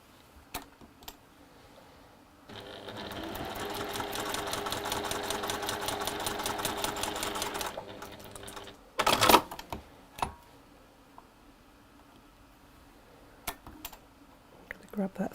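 A sewing machine stitches a fabric square in one steady, rapid run of about five seconds, then stops, followed by a few scattered clicks and handling knocks.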